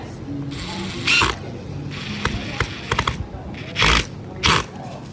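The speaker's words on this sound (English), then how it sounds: "Now you will use your driver to drive the screw through both holes." A power driver sends a screw through an L bracket on a wall cabinet assembly, with short bursts of whirring and ratcheting separated by small clicks and handling noises, close by.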